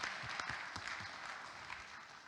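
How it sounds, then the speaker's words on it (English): Audience applause at a parent and student evening, a steady moderate wash of clapping from a mid-sized crowd, fairly quiet and even throughout with no speech over it. "let's give her a round of applause"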